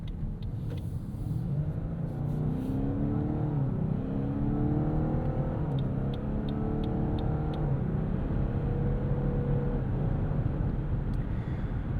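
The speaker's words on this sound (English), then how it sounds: "I wanted to let you guys listen to that V6 working hand in hand with this multi-stage hybrid system" The hybrid V6 of a 2024 Lexus LS 500h sedan revs up smoothly with several stepped shifts in pitch as it accelerates, a steady low hum underneath, no talking.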